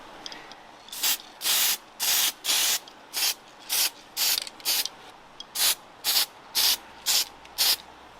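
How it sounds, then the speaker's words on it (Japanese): A spray can of PP bumper paint coats a plastic part on a Caterham Super Seven in short, repeated hissing bursts. About a dozen close, loud bursts are separated by brief gaps, and no one speaks. "これね、密着論とかもいらない PP 用のスプレーだからこのまま塗装できます。"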